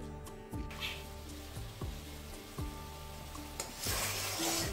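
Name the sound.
water added to hot kadai, sizzling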